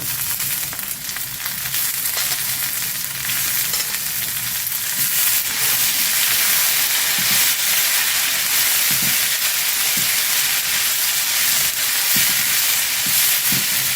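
Black-eyed peas (karamani) and small potato pieces frying in a pan, a steady, loud broadband sizzle that holds throughout with occasional soft stirring knocks underneath.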